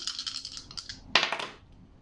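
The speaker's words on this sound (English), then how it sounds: "let me give you some dice as well" Dice rattle and clatter against a hard surface in a quick flurry of small clicks, then a sharper burst of tumbling knocks that settles and fades, with no talking.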